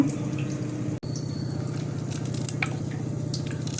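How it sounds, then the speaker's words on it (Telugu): A home water filter runs while filling with water, giving a steady humming drone with a watery trickle throughout and a brief dropout near the start. "ఫిల్టర్ ఆన్ చేశాను అదే సౌండ్ వస్తుందండి నీళ్ళన్నీ పట్టేశాను"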